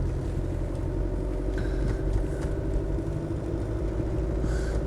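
A Range Rover Vogue SE soft-dash with the 300Tdi diesel engine and automatic gearbox, at 166,000 miles, runs with a steady low rumble that stays even and continuous, close by and with no talking.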